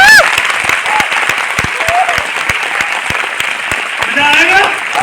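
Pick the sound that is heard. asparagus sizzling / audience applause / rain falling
audience applause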